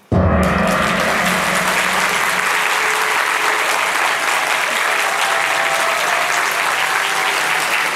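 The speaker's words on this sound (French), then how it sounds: "Merci à tous pour votre attention, pour vos applaudissements." Sustained, loud audience applause at an MT180 science communication ceremony, starting abruptly and holding a thick, even wash of clapping to the end.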